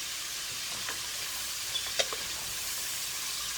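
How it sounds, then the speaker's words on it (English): Bacon and onion sautéing in a pan for a zucchini, squash and bell pepper stir fry, giving a faint, steady sizzle with a few soft clinks of stirring near the middle. "we want to saute this a little bit so it can saute down a little bit"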